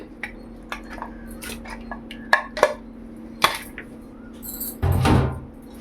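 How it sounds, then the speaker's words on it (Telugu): Washed mutton pieces dropped into a pressure cooker, with scattered metallic clinks and taps of a spoon against the steel pot, ending in a louder wet rustling thud as the meat goes in. "అందులో ఇప్పుడు వాష్ చేసి పెట్టుకున్న మటన్ని వేద్దాం."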